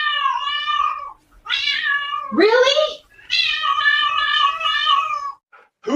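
A cat meows loudly and repeatedly in long drawn-out cries, one rising into a sharper wail, with short gaps between calls and a person speaking briefly.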